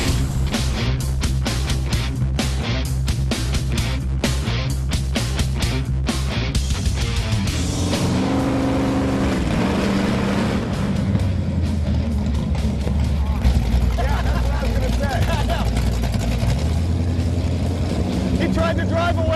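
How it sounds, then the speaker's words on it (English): A street car fitted with an MSD 6AL-2 ignition pops and crackles hard on its two-step rev limiter, then launches and accelerates away with a loud, continuous roar as people talk over it. "He tried to drive away with the rev limiter still on."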